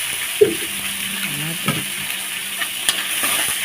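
Spatula stirring tomatoes sautéed with garlic and onion in a pan, with scraping and a low sizzle of frying, a few soft knocks against the pan, close by and no talking.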